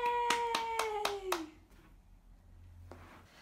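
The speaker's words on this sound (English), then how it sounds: "You learned to clap." An eight-month-old baby claps her hands about five times in a quick, even run, close and clear, while a voice sounds over the claps; then a short quiet pause follows.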